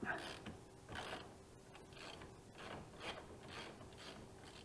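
A ratchet loosens a bolt on a 2003 Polaris Sportsman 500 HO ATV during CV boot work, rhythmic clicking strokes repeating about once a second, fairly quiet with no talk.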